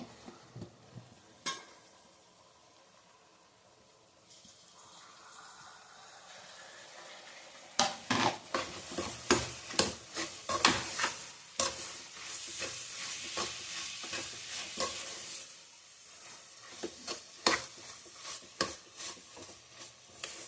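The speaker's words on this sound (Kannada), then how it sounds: "ಒಂದು 2 ನಿಮಿಷ ಫ್ರೈ ಆಗಬೇಕು ಕ್ಯಾರೆಟು" Carrots for carrot rice frying in a pan make a soft, steady sizzle, punctuated by sharp, irregular clacks and scrapes of a spoon stirring against the pan, fairly quiet overall.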